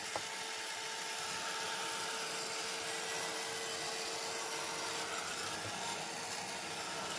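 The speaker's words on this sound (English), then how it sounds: "Let's try using the heat gun, the Ranger heat gun, and let's try drying it before I move it." A Ranger heat gun drying shimmer powder on a card-making project gives a continuous, fairly quiet airy whoosh with a faint motor whine underneath, holding steady throughout with no talking.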